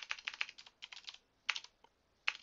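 Close-up typing on a computer keyboard while entering text in RQDA software, heard as quick clusters of clicky keystrokes separated by short pauses, with a final short burst at the end.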